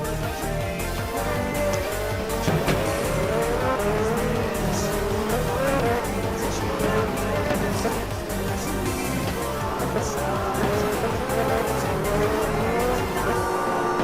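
IndieCar racing video game cars sliding with tires squealing loudly over a constant roar of engines, a dense and continuous mix of racing noise with no gaps.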